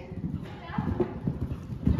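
A horse's hooves clip-clop steadily on the ground at a stable during a free-jumping session, with voices talking over the rhythmic footfalls.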